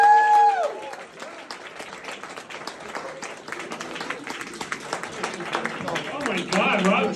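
A comedy club audience at Yuk Yuk's breaks into sustained clapping that swells and thins, with a performer talking over the applause and a brief musical tone at the start.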